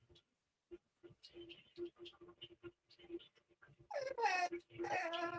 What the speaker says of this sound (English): that's Panda whining